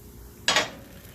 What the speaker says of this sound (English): let's flip those over and let them cook the same way